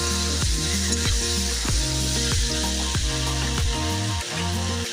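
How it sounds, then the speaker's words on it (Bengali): Water goes into a hot pan of flat bean, potato, eggplant and tomato curry, setting off a loud, close, continuous sizzle and hiss that dips slightly near the end. No voices. "এখন জল দিয়ে দেবো"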